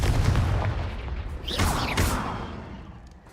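A Confringo fire spell blast in Hogwarts Legacy, a booming explosive burst with crackling impacts near the middle, fading into a rumbling tail.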